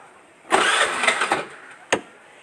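A motorbike engine is cranked and sputters briefly for about a second before dying out, followed by a single sharp mechanical clunk, close and fairly loud.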